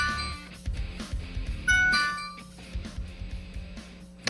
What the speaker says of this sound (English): Somebody is ringing the doorbell in my hotel room.